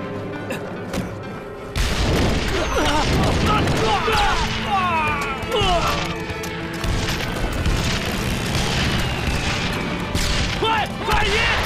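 An air raid in a wartime anti-Japanese drama bursts in with loud, dense explosions and crackling gunfire that rumble on continuously, with shouting voices mixed in.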